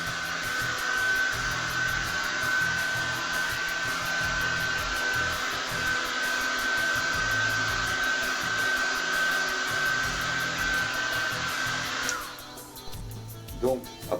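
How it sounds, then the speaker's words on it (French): A hair dryer blows a loud, steady whine that dries airbrushed paint on a stencilled scorpion design, running continuously for about twelve seconds before cutting off and leaving a few faint clicks. "je vous rappelle que vous pouvez accentuer le séchage avec un sèche-cheveux"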